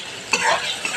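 Spices frying in oil in a pan with salt and turmeric and dried red chillies, a steady close sizzle with a couple of scraping stirs.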